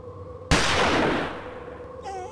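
A single sharp gunshot in a film scene set outdoors in the wilderness, one loud close crack that fades into a long echoing decay.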